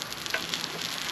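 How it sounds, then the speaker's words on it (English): Steady, close sizzling of a ribeye steak frying in a hot pan, a continuous crackling hiss with small pops. "She's sizzling."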